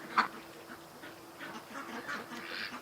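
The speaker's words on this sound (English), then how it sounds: "The poor little duck." A domestic house duck in a garden gives one loud close quack followed by softer, quicker quacks and muttering calls over a low steady hum.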